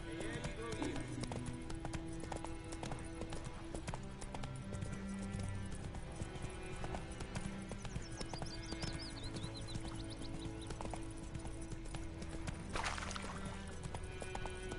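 Roach, a horse in a video game, trots with steady rhythmic clip-clop hoofbeats throughout, joined by a brief whinny and ambient game sounds, while someone speaks over it.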